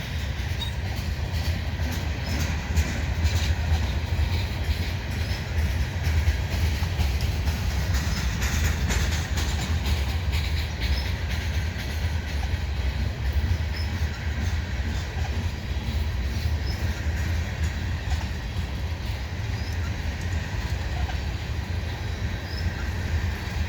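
A long CN freight train, mostly grain hopper cars, rumbles steadily past close by at St-Henri, with continuous low roar and rattling wheels on the rails, no pause throughout.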